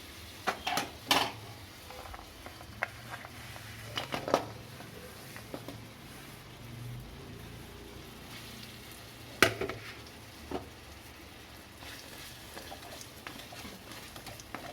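Jaggery is stirred in a pan over heat for gur patti, giving a quiet simmer with scattered clinks and scrapes of a utensil against the pan.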